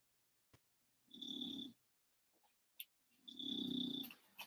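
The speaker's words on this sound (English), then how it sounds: "she is asleep. She is snoring." A sleeping pet dog snores in two long, slow rasping breaths, fairly quiet and close, separated by a pause with a few small snuffles and clicks, no talking.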